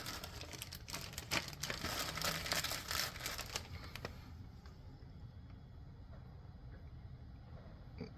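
Paper crinkles and rustles loudly up close as it is pulled out of a pocket, a burst of crumpling sounds in the first few seconds that fades into quiet background noise.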